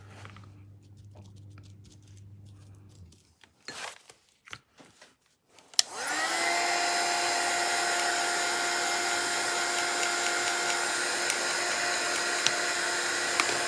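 A heat tool blowing hot air over a scrapbooking mixed-media layout, switching on after a few soft handling noises and then droning steadily and loudly with a constant whine.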